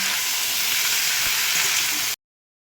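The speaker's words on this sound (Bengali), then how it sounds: "এবার আমি ভালো করে কষিয়ে কষিয়ে নেব" Vegetables and turmeric sautéing in a pan for labra, a dense, steady sizzle close up and fairly loud for about two seconds before cutting to silence.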